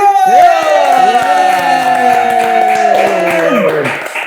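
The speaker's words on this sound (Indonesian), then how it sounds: "kita berikan tepuk tangan untuk Pasya Q." Studio audience on an Aceh podcast applauding and cheering for guest Pasya Q, loud and close, with tonal voices and whoops layered over the clapping.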